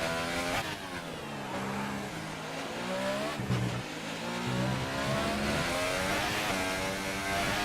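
An F1 race car engine in a video game at the Spain circuit, screaming at high revs with rising and falling pitch as gears shift through a lap, loud and continuous with no voices.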